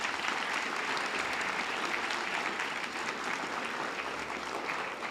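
A graduation ceremony audience applauds the graduates in a dense, steady roar of many hands that holds at an even level throughout, heard from a distance in a large space.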